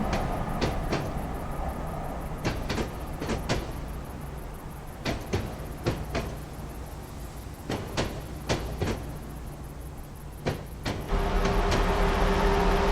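A silver Sydney commuter train runs in Train Simulator Classic, a steady rumble of rolling wheels with repeated sharp clicks of rail joints, fairly quiet, a louder hum building near the end.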